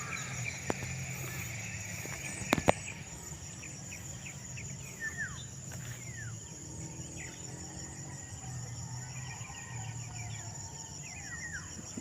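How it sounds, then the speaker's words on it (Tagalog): Scattered bird calls, short rising and falling whistles, sound at a distance over a steady insect buzz in a vacant lot in the Philippines, with a couple of sharp knocks. "mga huni ng mga ibon"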